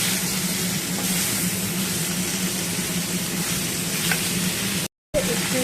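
Potato and ridge gourd fry in oil left over from frying fish, giving a close, steady, loud sizzle with soft stirring noises and a short break near the end.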